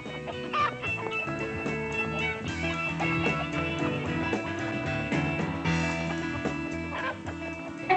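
Chickens in a cockfighting pit cluck and squawk in a dense, continuous chorus over a busy background, with no talking.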